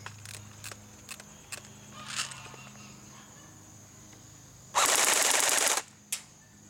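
An ARES H&K G36C airsoft electric blowback gun fires full auto, a dense buzzing burst lasting about a second. Before it come scattered single clicks and a faint motor whir, and after it one more sharp shot, all with a steady background tone.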